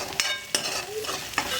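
Onion and ginger-garlic paste frying in a pan for a chickpea and potato curry, with a steady sizzle and several sharp scraping stirs of a spoon close up, no talk.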